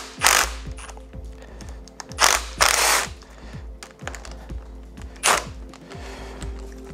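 Hand ratchet working loose the oil pump cog on an Audi 1.8T engine, a fast dense clicking of the pawl in several short bursts with brief pauses between, close and clear, no talk.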